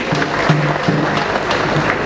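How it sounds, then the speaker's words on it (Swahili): A crowd at a KKKT church charity marathon claps for runners, producing steady, fairly loud applause with a faint tonal hum running beneath it. "Tuwapigie makofi."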